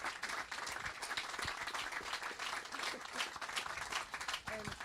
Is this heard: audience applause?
yes